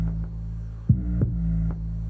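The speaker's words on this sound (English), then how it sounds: "I really enjoyed this 808 simply because I can add any kind of effects on it" An 808 bass with effects sounds alone, a steady clean low sine hum that throbs, with a few soft thumps and brief brighter harmonic touches on top.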